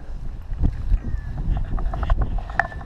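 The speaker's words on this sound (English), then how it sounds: "And the wind is blowing pretty wild" Strong wind gusts across an open field during canola planting, a steady low rumble of wind buffeting the microphone with a few faint knocks, no talk.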